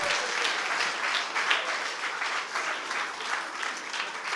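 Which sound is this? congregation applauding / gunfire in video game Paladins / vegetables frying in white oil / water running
congregation applauding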